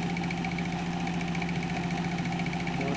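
Small engine running a magneto-based generator coil while it charges a battery, a loud close steady idle hum with even vibration throughout.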